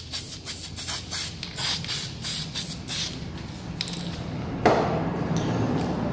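Spray paint goes onto a Cricut-cut stencil in light coats for a grunge screen-print look, short hissing bursts close by, with a can click and rattle near the end.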